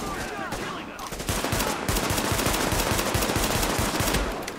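Rapid pistol gunfire during a boss fight in The Division video game, a dense run of loud, close shots that keeps going through the whole stretch, with a few faint voices underneath.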